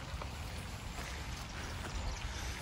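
Steady rain pours down outside in December, a dense even hiss with scattered drops and no other sounds over it.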